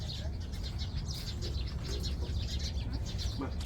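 Birds chirp in short high bursts on a farm in the UAE, faint and scattered over steady low background noise.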